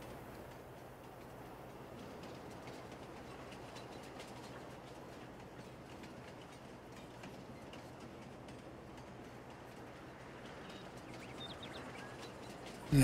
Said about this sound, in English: I think we're coming up to the train station now.